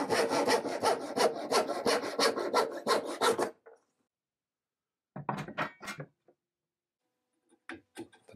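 A hand saw cuts a small section from a 5/8 wooden dowel, with a close run of rapid rasping strokes, a pause, and then a few shorter final strokes as the piece comes free.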